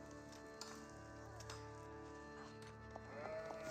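Sheep in an Age of Empires 4 match bleat in short, faint calls over a steady, busy game backdrop of hums and ambient tones.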